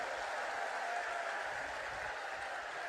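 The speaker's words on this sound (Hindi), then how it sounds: "ये दोनों उम्मीदवारों के लिए जोर से ताली बजाओ, जरा जोर से ताली बजाओ" Election rally crowd applauding two candidates, heard as a steady, somewhat distant wash of clapping and crowd noise at even volume throughout.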